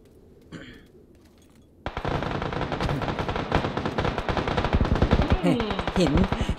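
Sustained automatic gunfire in a PUBG-style battle royale game, rapid bursts of shots starting abruptly after a quiet moment and continuing loud and dense, with a few sharper impacts near the end.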